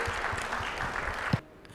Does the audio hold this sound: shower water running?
no